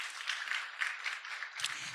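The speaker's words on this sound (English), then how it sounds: "Please give yourself a round of applause." An audience at an entrepreneurship policy dialogue claps in a steady, moderately faint round of applause, with a brief low murmur near the end.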